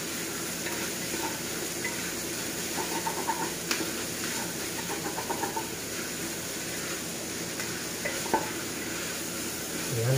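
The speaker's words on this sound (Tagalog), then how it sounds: "Lalagyan na lang po natin itong karne. Ay, itong laman loob, yung tuwalya-tuwalya. Igigisa lang po natin ng maganda." Beef and tripe-like offal sautéing in a pan for Bicol-style papaitan, a steady close sizzle and frying hiss with occasional stirring scrapes, no talking.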